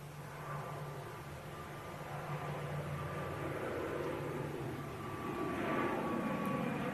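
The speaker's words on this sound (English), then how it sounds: "Logan Air's on the takeoff roll now." A Loganair propeller plane on its takeoff roll at Manchester Airport, a distant droning engine hum with a steady tonal whine, slowly growing louder over a broad rushing noise.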